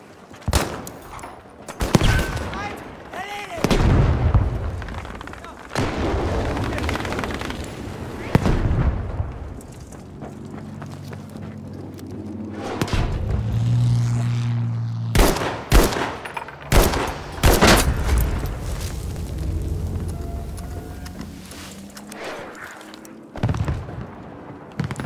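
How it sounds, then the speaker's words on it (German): Grenades burst and guns fire in a Battlefield V battle, with a dense run of loud explosions, sharp gunshot cracks and rumbling blasts over about twenty-five seconds, and shouted voices heard briefly amid the combat. "Granate geworfen! Granate ist in der Luft!"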